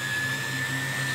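A Dremel 3000 rotary tool runs steadily after being switched on, a continuous high-pitched motor whine with a broad hiss, close and unchanging throughout.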